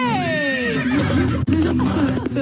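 A loud, close horse neigh with a descending whinny, followed by snorting and further shaky vocal bursts.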